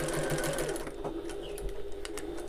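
Brisk, close whirring comes from a flatbed sewing machine stitching around a fabric bag, with a short fast burst that gives way to softer clicks and fabric handling.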